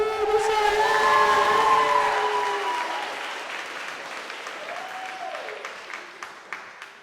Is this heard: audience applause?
yes